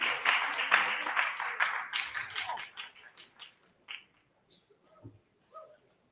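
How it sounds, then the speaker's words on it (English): Applause from a festival audience as panelists walk off stage, loud, brisk clapping at first that thins into scattered, fading claps and then a few isolated last ones. "Warm round of applause as they leave the stage, please."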